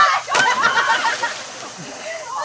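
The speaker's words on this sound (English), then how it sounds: "you splashed the camera" Water splashes loudly right at the camera in a swimming pool during a front flip, a short burst of sloshing and spatter followed by dripping, with voices talking over it.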